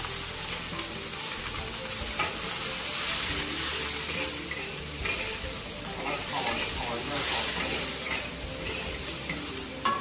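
Green vegetables sizzling and hissing steadily as they are stir-fried in a hot pan, with a constant loud frying crackle and occasional spatula scrapes throughout.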